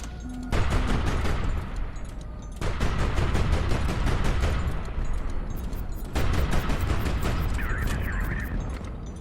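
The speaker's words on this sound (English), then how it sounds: "And they're shooting missiles at me." Missiles and cannon fire in the video game Highfleet, three long dense barrages of rapid overlapping shots and blasts separated by brief pauses, loud and close, no talk.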